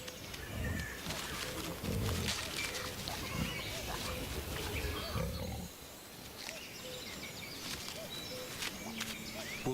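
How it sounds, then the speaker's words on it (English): Wild boar digging for mushrooms in the Chernobyl exclusion zone snort, grunt and rustle through the undergrowth in irregular bursts, moderately near against quiet forest ambience with occasional bird calls. "the wolf is woken by the sound of mushroom-digging boar"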